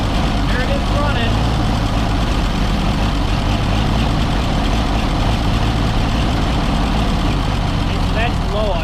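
Oliver 77 tractor with a previously stuck engine running at low idle: a steady, loud, low rumbling chug held throughout, close by, with faint voices underneath.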